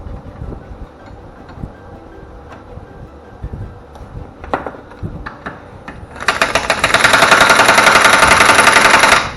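An impact wrench hammers on a lock nut in a diesel workshop, a loud, rapid rattling burst after several seconds of quieter clunks and handling noise.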